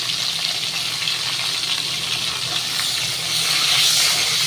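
Bitter gourd frying in hot oil, a loud, continuous hissing sizzle that holds steady and swells slightly toward the end, close up with no voices.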